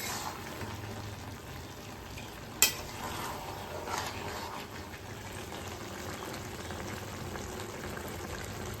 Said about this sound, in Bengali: চিকেনটা ভালো মতন কষানো হয়ে গেছে রাই শাক দিয়ে।